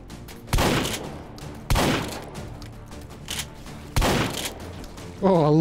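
Shotgun blasts in the Hot Dogs, Horseshoes & Hand Grenades VR game, four loud booming shots spaced a second or two apart, with a brief voice near the end.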